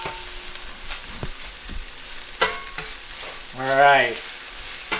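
Kale frying in a pan while being stirred, a soft continuous sizzle broken by scraping stirs and a brief swell of louder sizzling; a voice speaks briefly.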